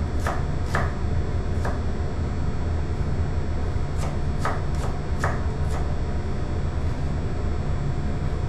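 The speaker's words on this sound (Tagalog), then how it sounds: "Bawang natin, pitpitin lang natin." Garlic being crushed for a fish paksiw, heard as a few sharp pounding knocks in two short clusters over a constant loud rumbling background.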